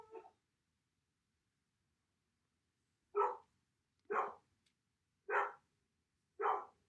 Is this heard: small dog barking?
yes